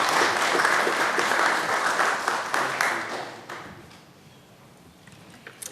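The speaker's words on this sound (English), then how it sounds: "let's have a round of applause for Mayor Pro Tem Nelson." Attendees at a Bastrop city council meeting give a round of applause: full, close clapping for about three seconds that thins and fades out into a quiet room.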